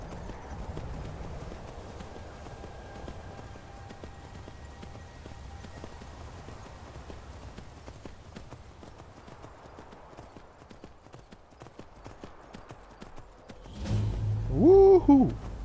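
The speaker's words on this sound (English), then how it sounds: "Is this horse running slow to y'all?" Horse hooves gallop in a steady clip-clop rhythm through a ride in the Skyrim video game, a constant pounding under game ambience that ends in a louder burst near the close.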